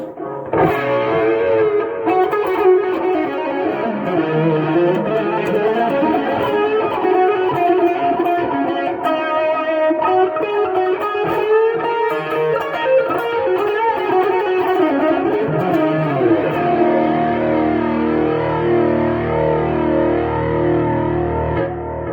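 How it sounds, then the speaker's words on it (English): Sustained electric guitar chords and notes through a SONICAKE multi-effects unit, washed in delay repeats and reverb, loud and continuous, trailing into echoing tails near the end. "you can add different delay settings as well as reverb settings"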